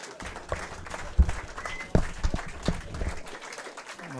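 A small crowd applauds youth snooker players introduced at a national county finals event, scattered, uneven clapping with a few sharper claps, fairly close and fading at the end.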